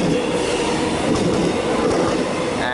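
A suburban train departing a Melbourne station at Ruthven, a loud continuous rumble of rolling wagons with faint wheel squeal, close by.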